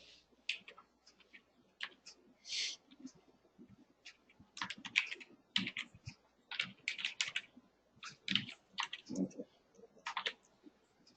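Typing on a computer keyboard during a Java programming class, irregular bursts of light close key clicks and taps with brief pauses, fairly quiet.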